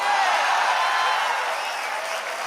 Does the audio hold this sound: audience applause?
yes